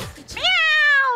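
A single drawn-out cat meow, close and loud, rising and then gliding down in pitch, in a Tamil TV studio game-show setting, with brief rustling just before it.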